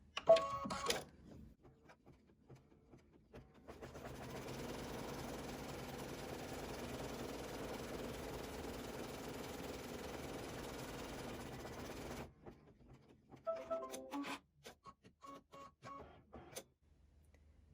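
An embroidery machine runs a zigzag stitch around the outer edges of an appliqué piece, a steady mechanical whir with rapid needle ticking that holds for about eight seconds, with brief handling clicks before and after.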